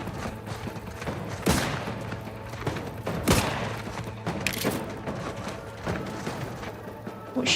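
Gunfire in the game The Outer Worlds 2 cracks out as scattered single shots, a handful of sharp reports spaced irregularly over several seconds above a low background rumble.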